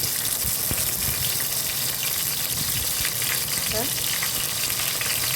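Steady, dense sizzling of rock fish frying in hot oil, a continuous crackling hiss with occasional louder pops, close by.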